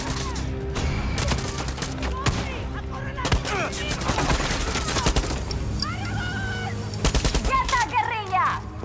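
Far Cry 6 video game combat with rapid gunfire, repeated loud shots and bursts throughout alongside other game effects, with voices speaking at moments.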